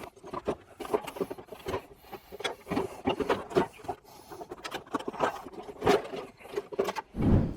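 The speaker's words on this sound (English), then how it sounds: "now we should be able to lift this tray up and out of here" A battery tray being lifted up and out of a Jeep Wrangler JL engine bay, giving a run of close plastic and metal scrapes, rattles and knocks, irregular and fairly loud, with no talking.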